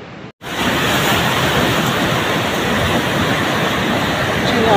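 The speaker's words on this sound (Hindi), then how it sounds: "मनाली में दोस्तों देखिए कितना पानी आ गया, बाढ़ का पानी बहुत ज़्यादा काफ़ी आ गया।" Floodwater of a swollen river surging through Manali during the 2023 Kullu-Manali flood, a loud, unbroken broadband roar close by, with a brief dropout near the start.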